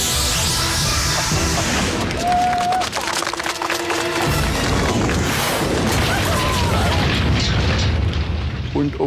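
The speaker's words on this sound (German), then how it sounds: "Meine Herrschaften, die Mirag 1 wird nun jeden Moment abheben." Mirak 1 rocket launch attempt by engineer Rudolf Nebel's team, a dense roaring, crackling burst with booming pops sustained throughout, loud and close, with crowd noise mixed in.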